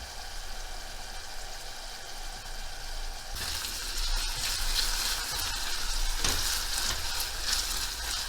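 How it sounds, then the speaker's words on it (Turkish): Peppers, garlic and onions sauté in olive oil in a pan: a quiet hum gives way after a few seconds to a loud, bright sizzle that stays strong, with a brief stir or clatter near the end. "Şimdi biberleri, sarımsakları ve soğanları soteleyeceğiz."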